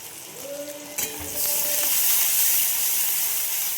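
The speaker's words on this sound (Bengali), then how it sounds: "একটা বড় পেঁয়াজ আমি কেটে তেলের মধ্যে দিয়ে দিলাম।" A large chopped onion drops into hot oil in a kadai. The close, loud sizzle surges in about a third of the way through and stays as a steady hiss to the end.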